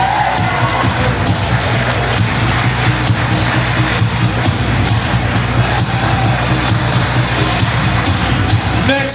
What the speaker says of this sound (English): A big round of applause for Dane and Joy